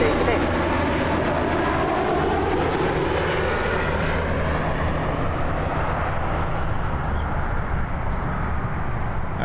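Emirates Airbus airliner on final for landing on runway 24 left at Toronto Pearson, a steady broadband jet engine roar holding loud and continuous throughout, with a low hum underneath.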